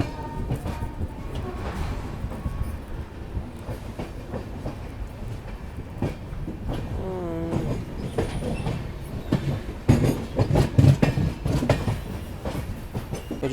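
Swarna Jayanti superfast express rolling along at speed, heard from inside a coach: steady rumbling wheel noise with rhythmic clickety-clack, brief metallic squeals and a louder burst of rattling near the end.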